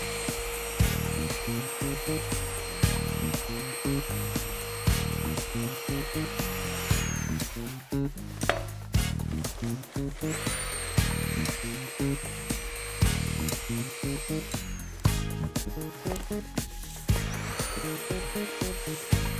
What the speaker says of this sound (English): now what I need to do is just condition the surface area with a nylon material. With a nylon web, this has got a direction of rotation.